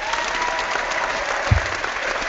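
Listeners at a theological debate applaud, a brief, steady patter of clapping with one louder thump partway through.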